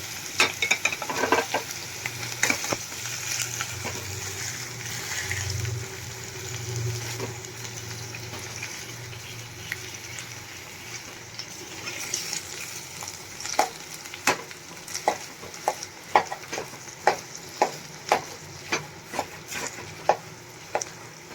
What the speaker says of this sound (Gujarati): હવે આપણે બટેટાને એકદમ સરસ મેશ કરી લેશું